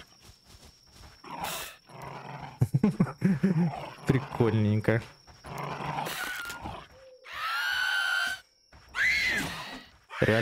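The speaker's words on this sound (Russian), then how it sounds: "Ля-ля-ля, собачка нападает." Mutant dog growling and snarling as it attacks in the video game DYSMANTLE, a series of gruff bursts and a drawn-out howl-like snarl, mixed with someone talking.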